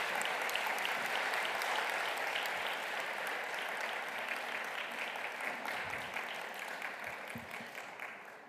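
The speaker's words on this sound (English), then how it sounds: "So a clap for them, congratulations." Audience applauding award laureates at the UNESCO Prize for Girls' and Women's Education ceremony, a steady dense round of clapping that holds for several seconds and slowly fades, with no voices over it.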